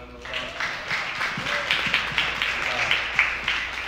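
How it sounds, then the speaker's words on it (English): Audience applause at an education and workforce AI literacy event, scattered clapping building under talk and continuing steadily throughout. "just give them a round of applause."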